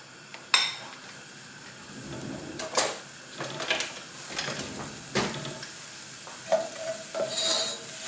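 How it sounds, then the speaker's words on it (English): Chopped onions sauté in a pan for an aubergine mince, with a soft sizzle beneath intermittent scraping and stirring knocks from a utensil. "add our chopped onions. And we're going to saute them until they're soft."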